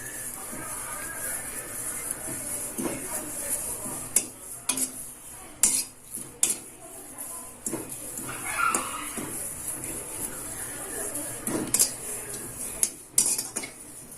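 A metal spoon stirs and scrapes through mint leaves being roasted in a pan, with scattered sharp clinks and knocks against the metal over a soft background hiss.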